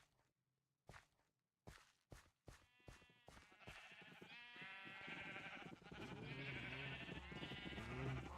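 A flock of sheep in the Minecraft video game bleats over and over, the calls piling up into a dense overlapping chorus after a series of sharp footstep-like clicks at the start.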